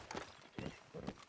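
Horse hooves clip-clop in Red Dead Redemption 2, three quick clusters of hoof beats on the ground, close and fairly soft, with no talk over them.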